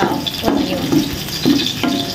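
Onions sizzling and frying in a pan, a close, steady hiss broken by regular stirring scrapes about every half second.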